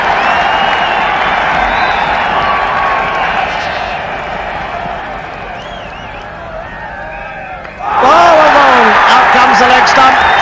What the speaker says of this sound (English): Crowd are going absolutely mad